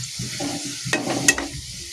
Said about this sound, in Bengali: খুবই হালকা আঁচে জিনিসটা ভাজতে হবে